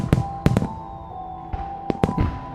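Fireworks bursting in a Batman radio drama set in Gotham: several sharp cracks and bangs in irregular clusters, close and fairly loud, with a faint whistle and a steady background hum between blasts.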